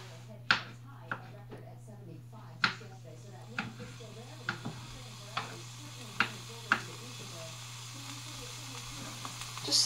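Garlic sizzles softly in a pan on medium heat beneath a steady low hum, broken by sharp clinks and taps of utensils against the pan every second or so.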